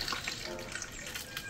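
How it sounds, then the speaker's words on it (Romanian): Hot water pours into glass jars packed with green beans for winter preserving, a steady, fairly quiet splashing stream with no pause. "Apă fierbinte, după cum vă spuneam."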